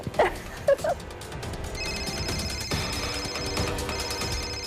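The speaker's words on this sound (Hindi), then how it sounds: "नरेश का फोन है" A telephone rings with a repeating electronic tone, steady and fairly loud, after a few brief knocks at the start.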